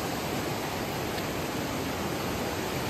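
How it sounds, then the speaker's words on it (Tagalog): Strong floodwater rushes in a steady, dense roar from heavy rain upstream, continuous and unbroken with no voices over it. "Pero ang lakas ng agos ng tubig."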